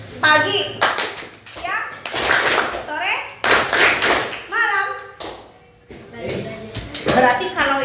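A class of children clap hands in a rhythm game, bursts of clapping alternating with children's voices chanting and talking, close and loud in a classroom.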